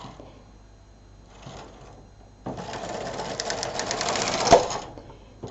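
Brother KH 800 knitting machine carriage sliding across the needle bed while knitting rows, a rattling mechanical whir lasting a couple of seconds after quieter handling noises.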